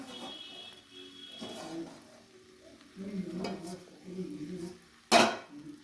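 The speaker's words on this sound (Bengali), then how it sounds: "এরপর ধনে পাতা টমেটোটা মশলার সাথে ভালো করে মিশিয়ে কিছুক্ষণ কষিয়ে নেব" Tomatoes and chopped coriander stirred into spices in a pot for goat tripe bhuna. Soft scraping stirs and a faint sizzle sit under a murmuring voice, ending in one sharp metallic clank.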